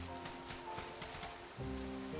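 Rain falls in a Pokémon video game, a soft, quiet patter of drops under faint sustained game music tones, with no one talking.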